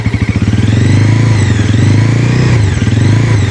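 A 2025 Bajaj Pulsar NS400Z motorcycle with an underbelly exhaust idles and is blipped on the throttle, a loud, close, bassy throbbing engine note that rises and falls with each rev.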